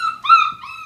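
A young puppy about five and a half weeks old whimpering close by, a few thin high-pitched whining cries rising and falling in quick succession in an otherwise quiet room.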